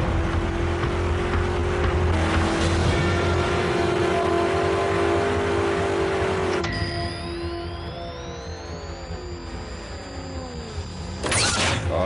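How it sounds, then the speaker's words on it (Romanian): A car engine runs steadily with a loud, sustained drone that shifts in pitch partway through, with a whining rise and a sharp change near the end, set against cartoon sound effects. "Aș recunoaște sunetul ăsta de motor oriunde."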